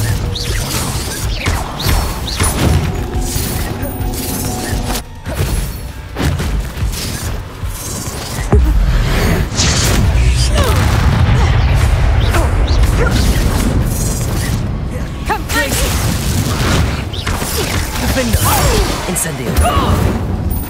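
Bombarda blasting-spell explosions in Hogwarts Legacy: a series of heavy booms and crashing impacts, with a large blast and rumbling aftermath midway, amid battle noise and intermittent voices.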